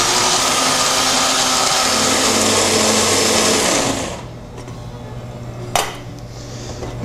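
A blender whirs loudly and steadily for about four seconds while blending pesto sauce with parmesan, then shuts off, leaving a quiet room and one brief clatter.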